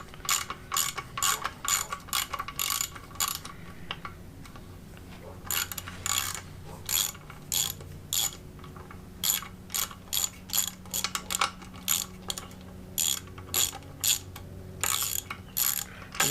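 A socket ratchet works a short washered bolt on an outboard motor's gearcase, clicking in quick rapid bursts separated by short pauses, close and crisp.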